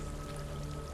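Steady river water flowing in the game Hellblade: Senua's Sacrifice, a continuous close wash of running water with no break across the moment.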